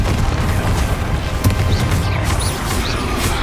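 Continuous barrage of booming spell blasts and crashing impacts from explosive combat magic in Hogwarts Legacy, dense and loud with rumbling low end throughout, repeated bursts layered without pause.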